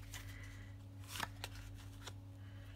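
A deck of herb oracle cards is shuffled by hand, giving a few soft, quick riffling and flicking bursts against a faint steady hum, quiet and close.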